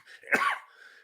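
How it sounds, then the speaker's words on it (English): A single close cough from a man with a tickle in his throat near the voice box: one sharp burst with a short rough tail. "it gets down around my voice box and tickles, and so I cough"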